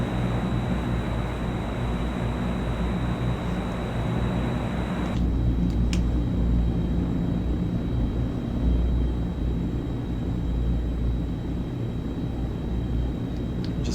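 A large, heavy, lumbering airplane in Flight Simulator 2024 drones steadily in flight, a constant engine rumble with a high whine that drops in intensity partway through as the power is reduced.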